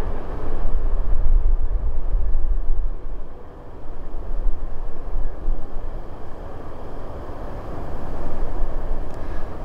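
A long CSX freight train with four locomotives, including distributed power units, rumbles steadily past at close range, with a heavy continuous low roar and rolling wheel noise throughout and no talking.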